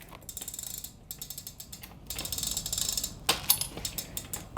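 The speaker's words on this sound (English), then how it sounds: "I'm going to go ahead and loosen up the bolts." A ratchet wrench loosens the wheel bolts on a BMX bike, close and clear, in bursts of rapid clicking pawl strokes separated by short pauses, growing louder toward the end with no talk.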